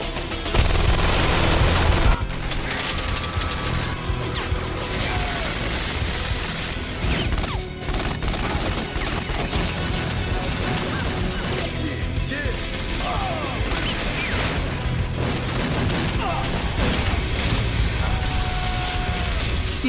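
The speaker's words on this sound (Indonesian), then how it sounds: "salah satu napi malah menyerang kelompok Jabir hingga terjadilah baku tembak" A prison gunfight in an action film, a dense mix of repeated shots, crashes and impacts under a dramatic soundtrack, loud and continuous, with heavy thumps near the start.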